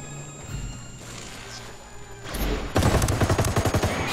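Video game gunfire fired into the jungle in Ghost Recon Wildlands. It starts as scattered sharp shots, then becomes a loud, rapid rhythmic burst of automatic fire toward the end.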